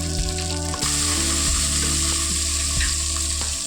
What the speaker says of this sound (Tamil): வெங்காயம் நல்லா வதங்கிடுச்சு, கலரும் மாறிடுச்சு.